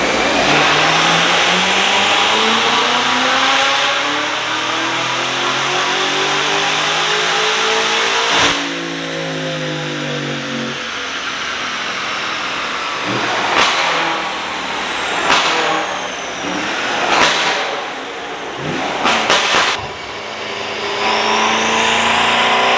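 A BMW F90 M5 with Eventuri intakes and a custom tune revs hard on a dyno, a loud rising engine pull followed by several sharp throttle blips and revs, with no talking.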